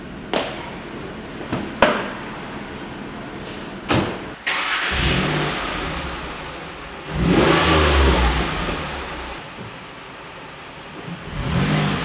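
A Ford Mondeo ST220 engine idles and revs as the car pulls into a garage, with several sharp knocks early on, a loud surge of engine noise around the middle, and a steady low rumble throughout.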